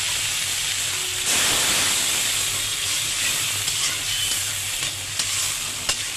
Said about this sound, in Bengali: শুটকিটা যেটা আমি বাটছিলাম, এই যে আমি তেলে ভালোভাবে আমি ভেজে নিচ্ছি।